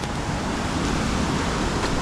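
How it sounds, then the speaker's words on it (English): Raging river water pouring over Williams River Falls in Barrington Tops, a loud continuous broadband roar and rush close by, with no voices. "the water's raging"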